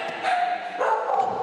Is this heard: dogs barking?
yes